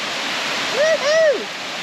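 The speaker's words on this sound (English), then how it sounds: "Our own private waterfall." A private waterfall in the South Pacific pouring into a lagoon, making a steady, loud, close rush of water throughout, with a brief exclaiming voice rising over it.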